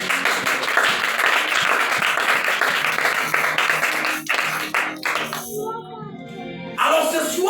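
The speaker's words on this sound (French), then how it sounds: "Acclame et on avance." A church congregation applauds during a service, loud sustained clapping with scattered voices mixed in, tapering off unevenly before a brief final swell.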